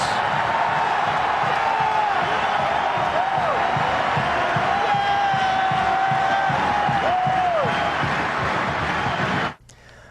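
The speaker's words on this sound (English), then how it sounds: "And the crowd is going nuts." A college basketball arena crowd at a Tennessee versus Kentucky game erupts after a blocked shot, loud sustained cheering with whoops and yells rolling on for about nine seconds before cutting off abruptly.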